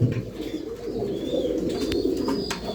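Giribaz high flyer pigeons coo softly at a loft, low rolling calls repeating over a busy background with a few faint higher chirps.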